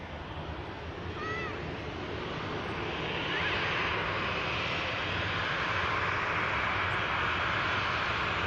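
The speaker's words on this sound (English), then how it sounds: "the Virgin Atlantic A330 crossing over for Atlanta" Virgin Atlantic Airbus A330 jet crossing over Manchester Airport, a broad steady roar that swells slightly and holds loud throughout, heard from a distance outdoors with wind.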